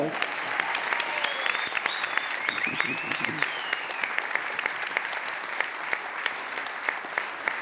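A concert audience applauds the composer of a monumental work, a dense, steady wash of many hands clapping that holds evenly for several seconds, with a few louder individual claps standing out.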